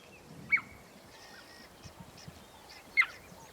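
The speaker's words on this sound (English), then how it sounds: "That's the girls there. Can you hear that chirp?" Two short, high-pitched chirping calls a few seconds apart, clear against a quiet outdoor background with faint low rustling.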